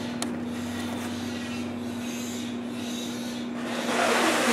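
A Watson Marlow Model 323 digital peristaltic pump runs with a steady rubbing, whirring mechanical drone and a constant tone, close and even, growing slightly louder near the end.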